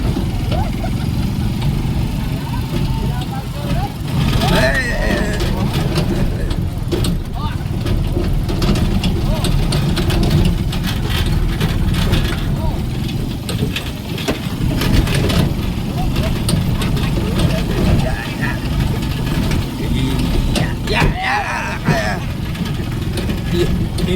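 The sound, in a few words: motorcycle engine running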